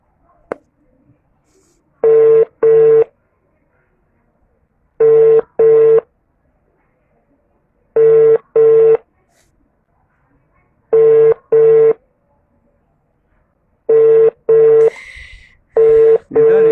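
Telephone busy signal: five pairs of short, loud, flat beeps in an even, regular rhythm separated by silence, with faint background noise and a brief extra noise near the end.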